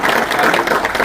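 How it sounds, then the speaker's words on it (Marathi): A crowd at a farmers' movement gathering in Satara district gives a brief burst of steady, close applause, with no talking over it. "म्हणून यांच्यासाठी जरा एक जोरदार टाळ्या"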